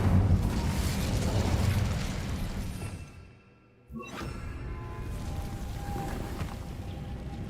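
A fiery Incendio spell is cast in the Hogwarts Legacy video game, a single sharp whooshing burst that erupts out of a brief lull amid a steady, dense background of game ambience.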